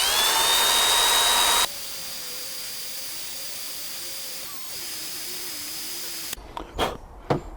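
Coarse-grit sanding whirs loudly on a rusty Keeway RKF 125 motorbike part, a harsh high power-tool hiss that drops to a quieter steady hum, then ends in a few short scraping bursts.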